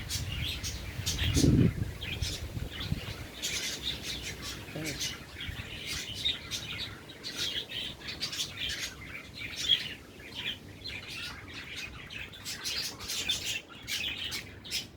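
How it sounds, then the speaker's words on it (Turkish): Birds chirp and twitter steadily outdoors, with occasional squawks and a brief burst of talk near the start. "Kuşlar burada."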